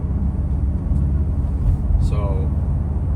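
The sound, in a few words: Ford Mustang exhaust with double wall tips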